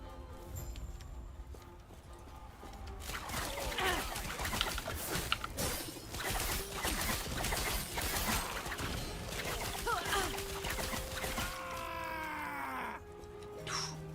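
A bird-like enemy dies loudly in the Last Epoch video game, giving shrill squawking cries over a dense mix of combat effects and game music that fill the whole stretch.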